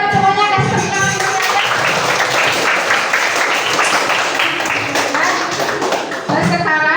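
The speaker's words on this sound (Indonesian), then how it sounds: "Kalian hebat semuanya, kasih tepuk tangan." A class of young children claps together in a steady, dense burst of applause for several seconds, with voices calling out at the start and end.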